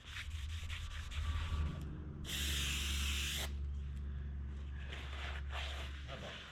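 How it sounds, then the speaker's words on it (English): Brake cleaner sprays from an aerosol can onto the brake surfaces of a Toyota motorhome, one loud steady hiss lasting about a second close by, set against a low rumbling background. "to clean the brake surfaces, I've got some handy dandy brake cleaner"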